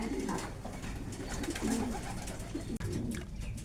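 Racing pigeons cooing inside a small backyard loft, several soft overlapping coos close by over a steady rustling background.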